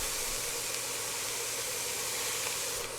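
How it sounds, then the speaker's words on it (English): One pound of lean hamburger sizzling in a hot skillet, a steady dense crackling hiss, close and constant throughout with no talking. "when I drop my 1 pound of hamburger in here, I want the sizzle just like that"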